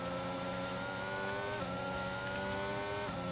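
A Formula 1 car in the F1 2022 racing game, its engine screaming at a steady high pitch, with brief shifts in tone as it changes gear, loud and continuous without talk.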